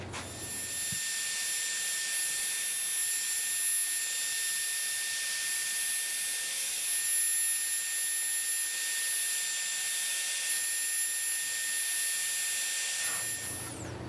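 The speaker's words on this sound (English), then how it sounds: "So now I'm going to go over on the grinder and dust that again" A grinder runs on a restored Tom Lipton level frame, dressing a soldered patch: a steady, loud, high-pitched whine with a broad hiss that holds evenly for about twelve seconds before cutting off.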